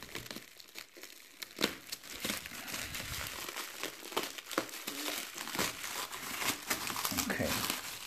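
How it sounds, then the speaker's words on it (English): Bubble foil packaging around a 1:18 scale Toyota Highlander 2015 model car crinkles and rustles close up while being cut away, in irregular crackly bursts at low volume. "Okay, so that's the bubble foil."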